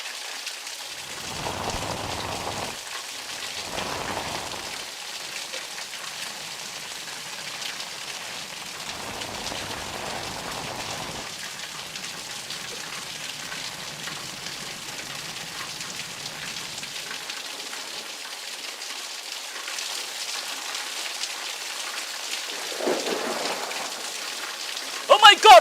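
Heavy rain pours steadily in Madhapur, Hyderabad during a thunderstorm, a continuous close hiss with occasional low rumbles and louder splashes near the end, while people talk intermittently over it.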